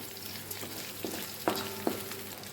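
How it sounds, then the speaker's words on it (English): Egg rice with dried red chili frying in a pan, a soft steady sizzle with a few sharp clinks of the spatula against the pan as it is stirred. "and then just stir it for a while"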